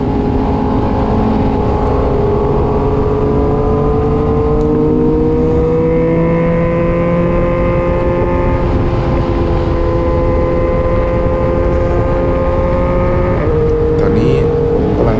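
A motorcycle fitted with an aftermarket exhaust pipe revs and drones steadily at close range during a group sport-bike ride, the engine note rising and shifting throughout with wind rush and no talk.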